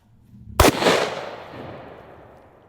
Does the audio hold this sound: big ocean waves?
no